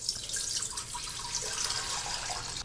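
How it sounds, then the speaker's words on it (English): Water pouring steadily into a pot holding a mason jar of willow bark tincture, a continuous bright splashing rush with no talk. "Put the mason jar in the pot and then add water."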